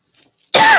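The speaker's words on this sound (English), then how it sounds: "Starting to cough again." A single short, sharp cough bursts out after a near-silent moment, loud and close.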